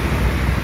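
Sea waves wash onto a stony beach on the Sea of Azov shore at Yeysk at sunset, a steady broadband rush mixed with wind buffeting the microphone, with no voices.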